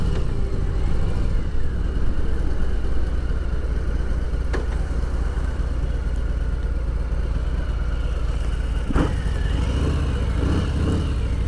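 2020 Harley-Davidson Deluxe motorcycle ridden on the road, a steady low engine drone with wind roar throughout and a couple of brief sharper knocks, no talking.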